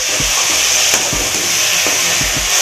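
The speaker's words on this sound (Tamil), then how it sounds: "இப்போ தக்காளி வெங்காயம் வந்து நல்லா வதங்கட்டும்" Onions and chopped tomatoes sautéing in a pan for a Tamil-style channa masala, with a steady close sizzle and a few soft scraping stirs of a spoon, no voices.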